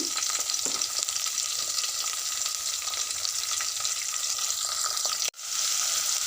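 A large onion and four green chillies fry in oil with crackling mustard seeds, giving a loud, dense, continuous close sizzle that drops out abruptly for a moment near the end before resuming.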